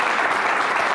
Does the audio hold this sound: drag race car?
no